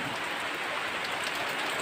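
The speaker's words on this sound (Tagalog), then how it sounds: "malakas ang ulan dito sa Masbati" Heavy rain pours down on a farm in Masbate, a dense, steady hiss of falling water with no breaks and no voices.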